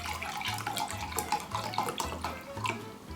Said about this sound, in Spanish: Así que yo puedo acá completar con agua